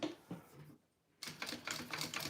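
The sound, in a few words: sewing machine stitching the second side of a fabric pouch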